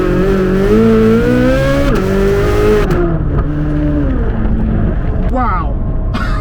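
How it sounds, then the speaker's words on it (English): A Corvette C8 Z06 with a flat plane crank V8 accelerates hard in a straight line, the engine screaming upward through gear shifts, loud and close, then easing off. "That was just a simple straight line acceleration with hearing that flat plane crank V8 absolutely scream."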